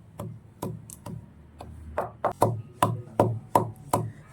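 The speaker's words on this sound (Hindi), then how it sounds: "हल्दी को मैंने सिलबट्टे में अच्छे से कूट लिया है" Turmeric is pounded on a silbatta grinding stone in about ten sharp, hard knocks of stone on stone, close by and spaced at a slightly uneven but steady pace, with no talking.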